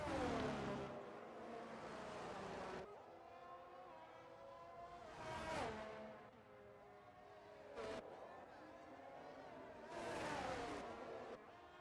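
Formula 1 cars heading out on their out-lap during qualifying at the Spanish Grand Prix, several high-pitched engines whining past one after another, each rising and fading, fairly faint with commentary under them.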